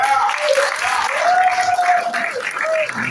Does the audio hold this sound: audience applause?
yes